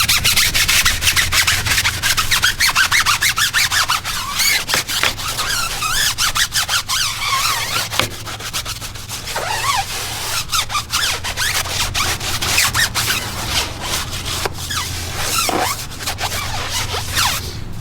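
A stiff brush scrubs a car tire in rapid, loud back-and-forth strokes, a continuous raspy rubbing with squeaky edges that runs throughout without speech.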